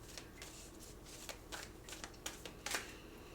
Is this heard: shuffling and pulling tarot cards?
yes